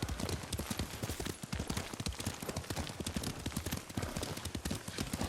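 Horse hooves clip-clopping in a steady galloping rhythm while riding through the open world of the video game Ghost of Tsushima, loud and close with no talk over them.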